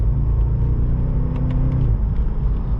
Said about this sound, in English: Very responsive motor